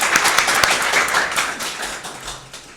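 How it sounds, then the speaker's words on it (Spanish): A small audience claps at the presentation of a Spanish science radio programme, brisk close-up hand claps forming a lively patter that gradually softens. "Podemos aplaudir"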